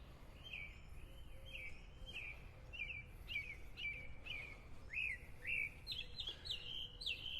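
A bird perched over the sidewalk at Vanderbilt Beach in North Naples, Florida chirps in a quick series of bright, repeated calls, fairly faint over a soft outdoor background.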